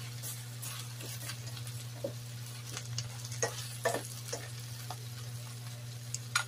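Shrimp sauté with onion and garlic in a pan, giving a steady soft sizzle with scattered clicks and scrapes of stirring under a constant low hum. No one speaks.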